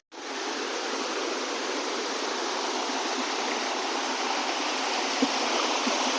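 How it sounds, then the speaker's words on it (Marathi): Continuous rushing water, a steady close roar of a small monsoon waterfall and flowing stream in Konkan, unbroken from start to end with no voices. "धबधबा दाखवण्याचा प्रयत्न करतो मित्रांनो बघा छोटासा आहे"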